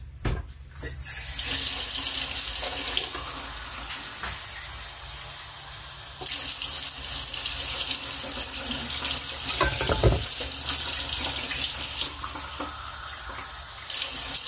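A kitchen tap runs in strong bursts, filling a measure of water for cooking with a few short pauses and shifts in flow, close and steady, with no voices.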